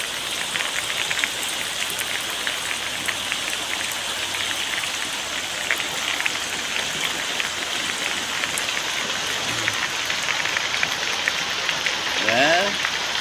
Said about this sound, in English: I think the rain is going up again